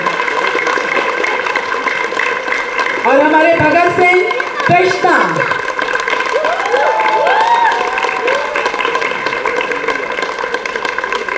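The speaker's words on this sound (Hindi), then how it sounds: "बहुत जोरदार तालियां" An audience applauds stage performers at a Chandigarh honouring ceremony, a steady bed of clapping running beneath a loud voice over a PA that speaks throughout.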